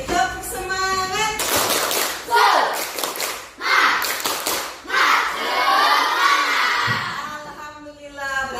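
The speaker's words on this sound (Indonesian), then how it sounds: "Tepuk semangat." A class of children performs the 'tepuk semangat' spirit clap chant during a morning lesson, rhythmic bursts of group clapping mixed with shouted voices, close and loud, with an adult voice speaking at the start and end.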